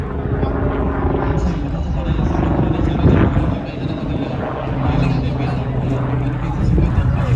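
A helicopter flies overhead above a village cricket ground, its broad rotor roar steady and loud throughout and swelling slightly near the middle.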